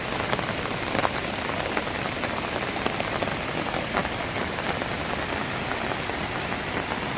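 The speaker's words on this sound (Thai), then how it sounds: "วันนี้ มาเจอฝนถล่ม ทั้งคืนครับ" Dense, steady rain pours down at a campsite near a waterfall, a continuous loud hiss of drops pattering on surfaces with no pauses.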